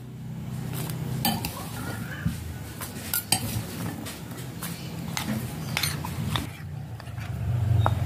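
A spoon scrapes and clinks against a bowl while thick rempeyek batter with peanuts is stirred, with irregular knocks and soft sloshing, close by.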